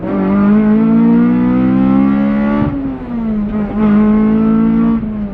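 Lightweight 2,300 lb K24-swapped Honda Civic time attack car revving hard under acceleration, a loud, close, sustained engine howl with rising pitch, a brief dip around midway as it shifts, then climbing again; no talking.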